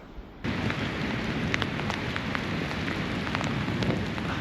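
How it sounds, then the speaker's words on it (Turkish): Steady, dense rain pours down on a long sandy beach at Atakum, Samsun, a constant hiss with scattered louder drops hitting a surface nearby, starting abruptly after a brief quieter moment. "Evet yağmur artıyor Atakum sahiline"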